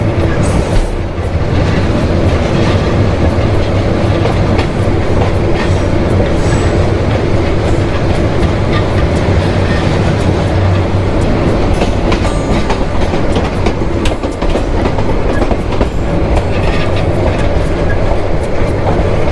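Tista Express train rushing past a level crossing, a loud, continuous roar of wheels and carriages with rhythmic clickety-clack close by throughout.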